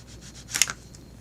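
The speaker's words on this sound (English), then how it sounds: "Now I'm sanding out the little nub leftover part." A leftover nub is sanded by hand off a small plastic model-kit part. It makes one quiet, brief rasping scrape in a near-silent room.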